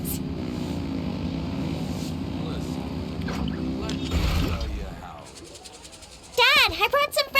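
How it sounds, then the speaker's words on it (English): Boat engines rev in the Genshin Impact Lantern Rite quest, a steady low engine rumble with water-vehicle character building through the first five seconds, then fading under voices and sharp melodic effects as characters talk. "Rev the engines!"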